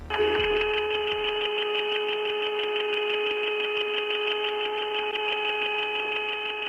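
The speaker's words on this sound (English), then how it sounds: "they all started hearing a strange, high-pitched whistling sound" A steady, high-pitched whistling tone with several layered pitches sounds through astronauts' headsets while they orbit behind the Moon, cut off from Earth. It holds loud and unbroken from start to finish, with no speech.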